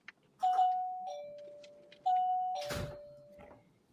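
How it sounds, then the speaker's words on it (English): A two-tone doorbell chimes twice in a quiet room, each ding-dong clear and ringing out before fading, the second pair followed by a brief rustle. "That was a bell"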